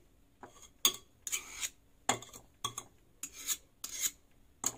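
A knife saws through a chocolate cake in repeated short rasping strokes, about seven scrapes with brief pauses, close and fairly quiet.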